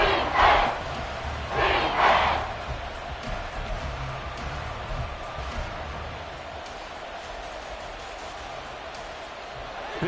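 Stadium crowd noise in a Madden football video game, Eagles versus Commanders: a steady roaring crowd with a couple of louder swells early on, settling into a continuous dense murmur.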